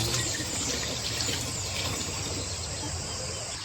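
Water being fetched into a container for a house on a farm, a continuous close wash of running, pouring water at a steady level, with faint outdoor chirps behind it and no talking.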